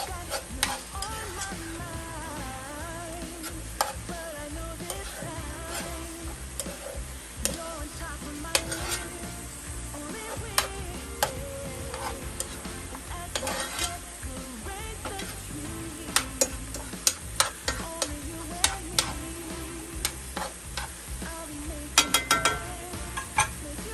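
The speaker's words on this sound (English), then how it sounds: "Now I'm going in with a spoon to give it a stir." Ground beef and steak frying in a pan and stirred with a spoon, a continuous sizzle broken by repeated scraping and clinks of the spoon against the pan.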